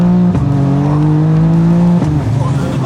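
A heavily modified 2000 hp BMW M5 accelerates hard, its loud engine note climbing steadily before a sharp break around each gear change, close and dominant throughout.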